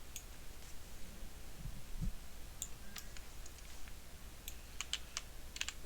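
Someone types on a computer keyboard in quiet, scattered bursts of light clicks over a low hum, with a soft thump partway through.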